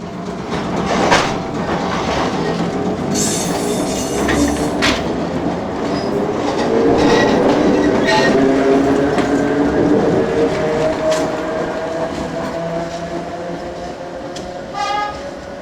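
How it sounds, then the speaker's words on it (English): An electric suburban train on the Johnsonville line in Wellington pulls into a station, its loud rumble and rail clatter steady throughout, with wheel squeal, brake hiss and a brief horn-like tone near the end. "Here, the train is arriving at Nio."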